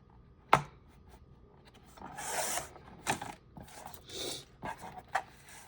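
Sheets of junk-journal paper being folded and trimmed, heard as a sharp close snap followed by several soft rasping swishes and short crisp crackles at uneven intervals, fairly quiet with no voices.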